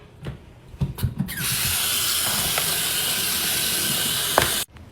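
Cooked brown rice is rinsed under a running tap, a steady rush of water that starts after a few handling knocks and stops abruptly near the end. It is close and loud, with no voices.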